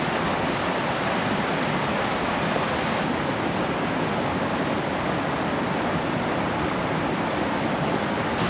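A river rushes through old growth cedar and fir forest, a dense, steady roar of flowing water heard close up and unbroken, with no voices.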